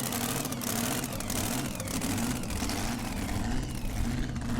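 The big V8 engine of Predator, a two-wheel-drive tractor-pulling machine with a vertical scoop, drones loud and continuous at a European pulling event, a dense roaring rumble with slight shifts in pitch.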